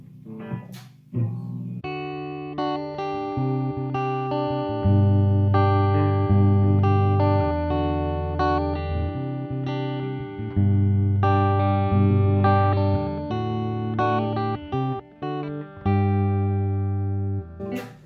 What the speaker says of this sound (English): So we're going to do some clean tones with this now. Run through first on the neck pickup.